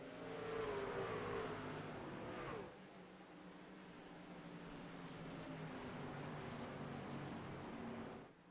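Racing trucks of the AER Trucks Series roar off at the green flag start at Canadian Tire Motorsport Park, a dense, steady engine drone with rising revs, fairly distant and without talk.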